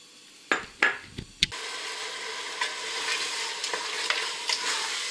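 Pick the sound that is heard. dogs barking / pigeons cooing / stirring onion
stirring onion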